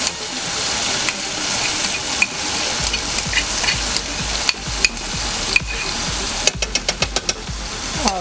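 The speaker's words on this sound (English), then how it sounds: "So once these are browning up and sizzling nicely, we're gonna go ahead and pour in our sauce." Sliced kielbasa sizzling steadily in a hot pan while a creamy sauce is stirred in, with scraping spoon clicks and taps punctuating the continuous frying hiss.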